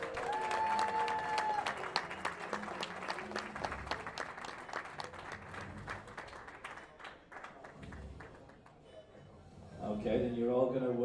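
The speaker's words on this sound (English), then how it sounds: "All right, big round of applause for all of today's competitors." A crowd at a women's classic powerlifting competition applauds, a dense burst of clapping that gradually thins, with a voice speaking over it and a short squeal near the start.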